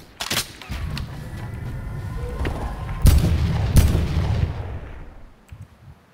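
Gunfire in the battle royale game Fortnite, a burst of shots with two heavy, booming reports close together midway, ringing over a rumbling game background before fading out.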